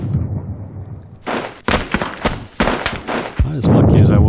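Scoped rifle gunfire in a war video game: several sharp, loud shots in an uneven series, each cracking out and ringing briefly, with a heavier thump near the end.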